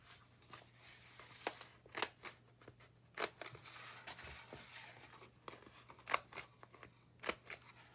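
Scissors cut through a paper file folder in a string of crisp, separate snips, some in quick pairs, close and quiet with no talking.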